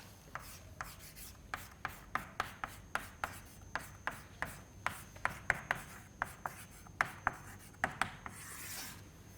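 A pen scratches across paper in quick, even strokes, about two per second, close and fairly soft, with no voices over the rhythmic scribbling.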